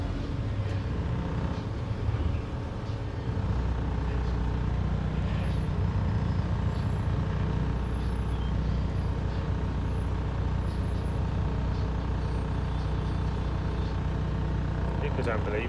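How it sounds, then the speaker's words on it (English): Road traffic with cars and trucks rumbles steadily on a busy road, a constant low drone with an air brake hiss and passing vehicles, heard from nearby throughout. "Look at all the traffic."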